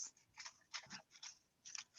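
A hand digs and shuffles through entry slips inside a container for a prize drawing, giving a series of close, quiet papery rustles and scrapes in irregular bursts with no talk.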